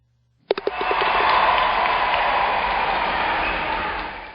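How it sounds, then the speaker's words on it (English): Crowd cheering sound effect in a Flash animation test, a dense, loud roar of cheers and applause that starts abruptly after a few sharp hits and holds steady to the end, with no talking. "the crowd noise is a little bit too loud"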